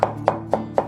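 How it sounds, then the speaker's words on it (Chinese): A knife chops fresh cauliflower into fine rice-sized bits, four crisp, evenly spaced strikes on a board in under a second, close and clear. "洗干净过后，我们把花菜给它切成末哈"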